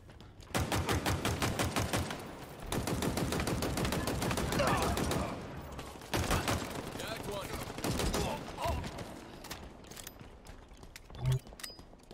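Rapid automatic gunfire from a shooter video game crackles in dense sustained bursts with brief gaps, punctuated by sharper single shots, while game voices call out over the action.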